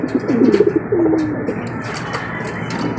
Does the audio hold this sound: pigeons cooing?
yes